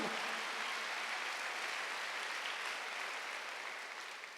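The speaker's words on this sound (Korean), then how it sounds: "박수 하세요." A congregation at a Wednesday church service applauds together, an even wash of many hands clapping at a distance, steady and fairly soft, fading slightly toward the end.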